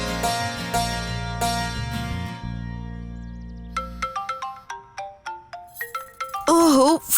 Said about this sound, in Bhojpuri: ओहो, फोन।